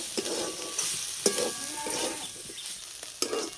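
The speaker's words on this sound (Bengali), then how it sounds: "এইভাবে আরও কিছুক্ষণ ভেজে নেব।" Steady sizzle of pumpkin greens frying in a pan without water, with occasional scrapes and stirring clatters, close and fairly quiet.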